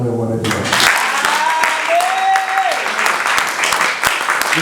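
Church congregation breaks into applause during a service, a broad continuous clapping rising after a brief moment of speech, with voices and cheering threaded through it.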